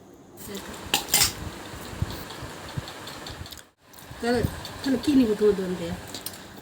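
Cutlery clinks and scrapes against plates during a home meal, a few sharp metallic taps close by, with a person talking over the clatter and a low engine hum behind.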